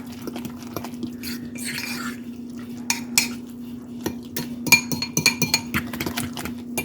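Utensil scraping and clinking against a bowl while a mixture is stirred in, a steady run of close, irregular taps and scrapes over a low constant hum, with no talk.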